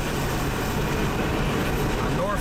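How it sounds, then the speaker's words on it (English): A Norfolk Southern freight train led by the Virginian Heritage Unit locomotive rumbles past, a dense, loud, continuous roar of wheels and engine noise with a faint squeal near the end. "a Norfolk Southern 22K train"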